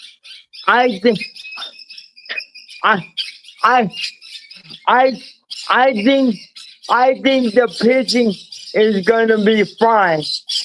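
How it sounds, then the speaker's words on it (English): Birds squawk and chirp repeatedly in the background throughout, loud and persistent, beneath someone speaking in a sports discussion. "I'm sorry about the birds."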